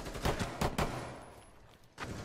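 Gunshots in Rainbow Six Siege Terrorist Hunt, a few sharp bursts at irregular intervals, close and moderately loud, with no talking over them.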